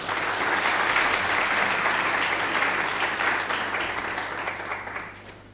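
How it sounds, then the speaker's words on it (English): An audience at a youth entrepreneurship symposium applauds loudly and steadily for several seconds, and the clapping then fades away toward the end. "Can you please give them a round of applause?"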